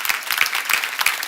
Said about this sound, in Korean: 박수로 하세요. 예수가 끊어줬다고.